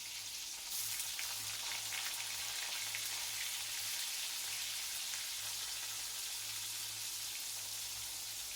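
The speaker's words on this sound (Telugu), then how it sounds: "ఇప్పుడు బాండీలో సరిపడా ఆయిల్ వేసి వేడయ్యాక చేప ముక్కల్ని వదలాలి" Pieces of dried salted fish frying in hot oil in a pan, a continuous close sizzle and crackle with no voices.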